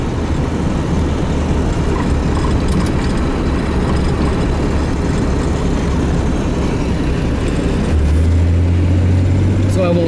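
Jaguar Mark X 420G saloon with its 4.2 straight-six engine on a night drive, a steady low droning rumble throughout, loud and close, with a deeper hum rising near the end.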